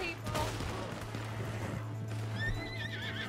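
Frightened horse in the Red Dead Redemption video game whinnies in a rising, wavering neigh over hoofbeats and distant gunfire, moderately close but quiet overall, with game noise underneath.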